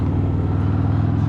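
A Harley-Davidson FXFBS Fat Bob 114 motorcycle engine holding a steady, loud, deep rumble as it runs in third gear, with no pause or rev change across the short stretch.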